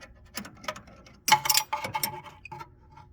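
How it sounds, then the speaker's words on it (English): Wrenches work 13mm bolts on a 2005–2009 Mustang steering rod, giving a short run of sharp metallic ticks and ratcheting clicks in uneven bursts, close up and alone. "I'm going to double wrench it just to"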